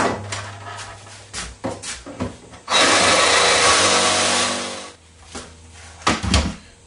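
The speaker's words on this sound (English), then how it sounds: "Even though I use a sawzall, any cutting tool will work pretty much." A sawzall cuts a portion off a reproduction antler skull mount in one loud, rough burst of about two seconds, framed by knocks and handling clatter before and after.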